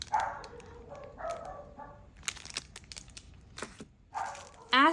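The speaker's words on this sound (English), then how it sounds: "It's my dog." A dog named Astro barks a few sharp, close yips amid crinkling packaging and rustling, with a person speaking excitedly in between.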